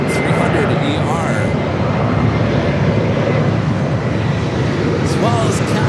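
Heavy jet airliners, including a Delta 767-300ER and a Cathay Pacific 777-300ER, approaching Los Angeles International Airport, giving a steady, loud, broadband engine roar that fills the whole stretch with faint chirps above it.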